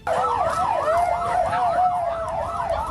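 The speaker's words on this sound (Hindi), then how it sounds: "पूरे इलाके में सायरन की आवाज गूंजने लगी।" Emergency sirens wail continuously across a neighborhood after a fire, rising and falling in overlapping tones, loud and steady with traffic rumbling beneath.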